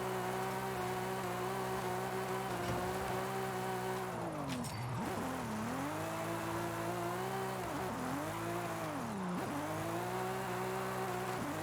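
A 1998 Toyota Supra drifting in Forza Horizon 5, its engine droning steadily at high revs with pitch dipping and rising as the throttle is worked through slides, loud and continuous with faint tire noise.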